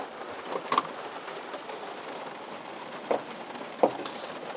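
Rain beginning to pour down on a campervan: a steady, soft wash of hiss throughout, with a few faint knocks and taps scattered through it.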